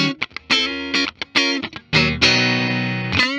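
A 2022 Fender Japan Hybrid II Stratocaster electric guitar played through its neck pickup, a short run of plucked notes that ends in a sustained ringing chord, loud and close with no talk.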